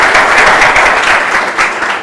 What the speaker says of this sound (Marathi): टाळ्या वाजून त्याचं अभिनंदन झालं पाहिजे